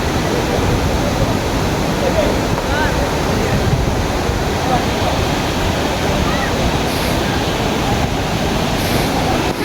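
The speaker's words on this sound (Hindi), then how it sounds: "सिर्फ इस झरने की आवाज़ सुने।" Roaring Jargo waterfall in Swat, a steady, dense wash of falling water close by that fills the whole clip without a break, with faint wind noise mixed in.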